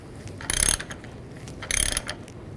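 A ratchet tightens the strut nut on a 2004-2010 BMW X3 front strut assembly, giving two short bursts of close, rapid clicking separated by a brief pause.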